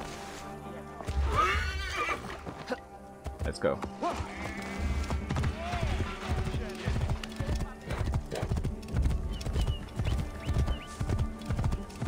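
Horse hooves clip-clop in a steady galloping rhythm, with a loud whinny, in the Assassin's Creed Origins video game set in ancient Egypt. A voice speaks briefly over the hoofbeats.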